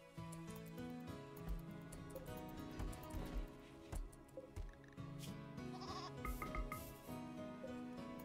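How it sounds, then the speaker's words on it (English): Goat in the video game RimWorld bleating repeatedly, loud wavering cries over a backdrop of game music with steady tonal notes. "it was goat screaming"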